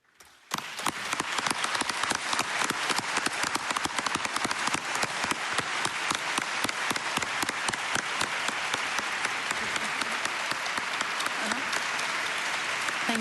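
Conference audience applauds after a patient-session talk at a fertility congress, a sudden burst of dense clapping that starts sharply and continues steadily for over ten seconds, crisp and close.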